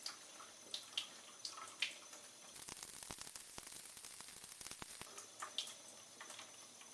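Water from a supply runs into a container in a soft, steady trickle with a few scattered drips, swelling into a fuller pouring stream for a couple of seconds midway.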